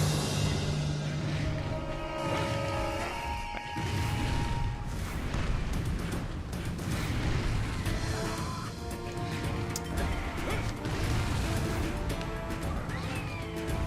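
Explosions and crashes in the video game Supremacy Combat, a dense, loud wash of booms, smashes and shifting electronic tones that continues without pause, with no talking.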